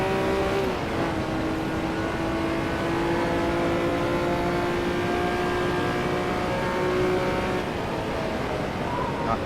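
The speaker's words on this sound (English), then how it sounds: "Let's see if we can get some proper revs going here" A Honda NSX engine in the rFactor racing sim revs steadily and loud, a sustained mechanical drone with a brief pitch drop early on as it shifts, then a long held tone before easing near the end.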